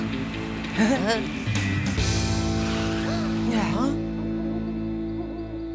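Soft owl-like hoots over music and a speaking voice, with sliding tonal calls that seem to imitate hooting.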